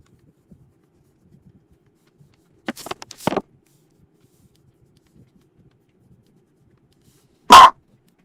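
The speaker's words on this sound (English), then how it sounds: "Excuse me, sneeze." A single short, sharp sneeze bursts out after a quiet stretch, close and loud, following some brief rustling and breathy noises earlier.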